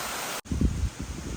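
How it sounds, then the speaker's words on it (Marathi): Water pours down fort ladders in a waterfall on Korigad Fort, a loud, close, steady wash of broad noise broken by a brief gap and rustling handling sounds. "त्या शिड्यांना आलेला एक धबधब्याचं रूप आणि त्या धबधब्यातनं आम्ही चालताना आणि या पाण्याचा आनंद घेताना"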